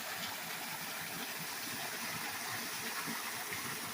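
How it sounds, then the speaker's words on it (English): Water from a spring pours down a waterfall at Falling Springs Mill in Winona, Missouri, a steady, close, rushing hiss with no break or voices. "Are you ready for the waterfall?"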